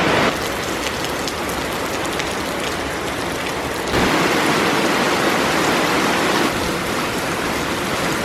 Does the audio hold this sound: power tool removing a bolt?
no